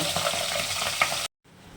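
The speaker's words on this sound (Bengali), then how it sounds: "পাবদা মাছ ভীষণ ভীষণ ফাটে, এই খুব সাবধানে ভাজতে হবে।" Pabda fish sizzles and spatters in hot oil, a dense crackling hiss with a sharp pop, then cuts to near silence after the pan is covered before a softer sizzle resumes.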